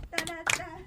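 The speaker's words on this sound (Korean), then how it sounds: "수우파 박수 드립니다." A few quick hand claps at close range, two short bursts of clapping in under a second, mixed with voice-like tones during a lighthearted talk show.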